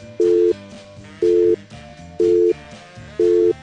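A North American telephone line gives a busy signal: four evenly spaced, loud tone bursts of about a third of a second each, repeating steadily with quieter gaps between them.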